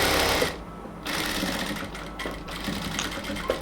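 A sewing machine stitches along the elastic at the waist of a salwar, running in fast continuous bursts with a brief pause and a close, loud mechanical whir.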